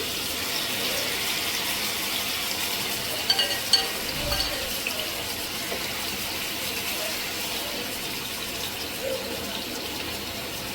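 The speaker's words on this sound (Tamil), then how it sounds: "நம்ம ஊற வச்சிருக்கிற சிக்கனை இது பேனில் போட்டுக்கலாம்" Marinated chicken frying in oil in a pan, a steady close hiss and sizzle holding at an even level throughout, with faint knocks in the middle and no talking.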